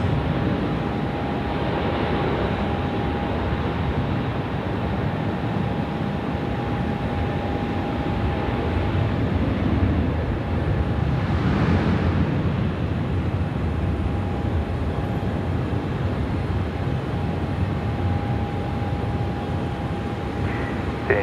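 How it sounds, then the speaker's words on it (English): An Emirates Airbus A380 taking off from runway 16 right at Sydney Airport, a long, steady, powerful jet roar with a low rumble and a faint tonal whine, sustained and fairly distant throughout. "the Emirates A380 ripping it out one last time here, runway 16 right"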